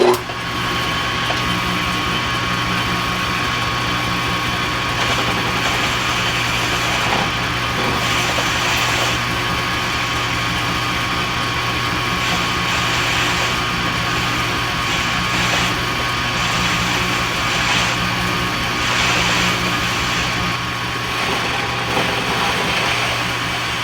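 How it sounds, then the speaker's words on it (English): Metal lathe turning steel as a carbide-tipped cutter trims a small amount off a shank, a steady machine whine and hum with a continuous grinding cutting texture throughout, fairly loud and close with no talking. "I'm going to use a carbide tipped cutter to remove just a little bit of material"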